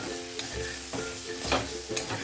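Potato sabji with chilli, coriander and ground peanuts being stirred in a pan, with a steady sizzle and a spoon scraping the pan at a regular rhythm, close up and with no talking.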